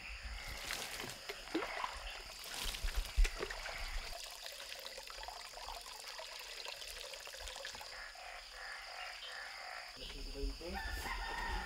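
A rooster crows repeatedly over a noisy outdoor background with running water and other birds.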